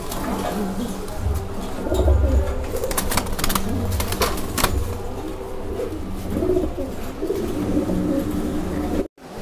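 A pair of silver racer pigeons coo in low, throaty, repeated rolls close by, over a steady background hum with scattered rustles and brief clicks.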